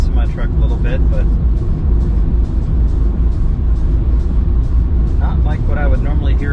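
Road noise fills the cabin of a Tesla Cybertruck at highway speed, a steady low rumble and hum that holds throughout. A person talks over it.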